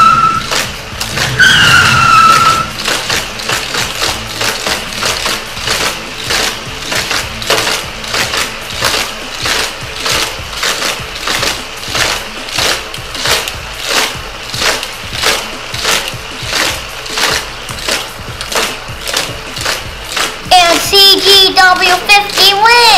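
Hot Wheels toy cars, a 2009 Cadillac against a CGW50, racing on the Criss Cross Crash Track, with a loud, rapid rhythmic clatter of wheels over track joints for about twenty seconds, then a brief burst of skidding and clacking near the end.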